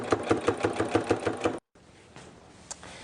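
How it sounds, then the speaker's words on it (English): A sewing machine stitches around the strap of a reusable fabric bag in a quick, even run of pulses lasting about a second and a half, then falls quiet apart from faint handling. "you'll want to line yourself up with the 1/8 inch seam allowance and then sew all the way around"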